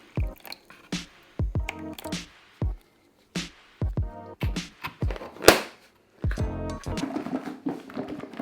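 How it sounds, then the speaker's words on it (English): Marinade poured from one container into another bowl in a kitchen while making a vegan recipe: a series of short wet drips, splashes and squishy liquid sounds, fairly close, separated by brief pauses and ending in a longer pour. "I'm going to pour some of that marinade into another bowl."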